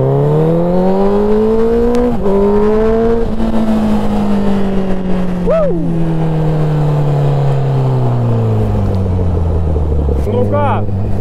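Honda CBR1000 motorcycle engine on a first ride of the season on dry asphalt, droning steadily with rising and falling pitch as it accelerates and shifts, loud and close throughout.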